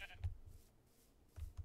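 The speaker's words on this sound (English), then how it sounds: "There's a lot of sheep around here" Sheep bleating on a Minecraft server, a couple of short faint low bleats separated by quiet, with a voice talking lightly at the start.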